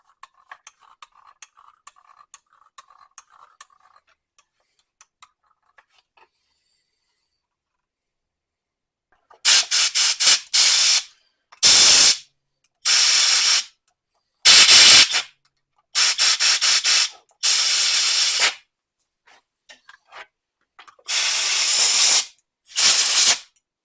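Bursts of loud, harsh hiss from an aerosol can of CRC contact cleaner, sprayed into a broken Ryobi saw in short repeated blasts of one to two seconds, preceded by faint clicks and handling noises.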